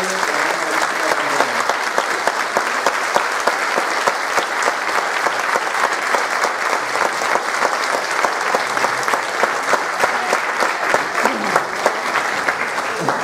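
A crowd applauds the children during the reading of the San Juan Bautista patron saint festival proclamation in Puntallana, a dense, loud, continuous patter of clapping that holds steady throughout, with a few faint voices mixed in.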